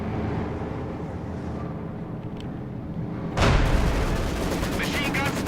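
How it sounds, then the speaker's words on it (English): Gunfire and artillery in the Company of Heroes 2 strategy game: a steady rumbling battle bed that jumps to a louder burst of firing and impacts partway through, with dense crackling continuing after. "Machine gun spot is firing on us."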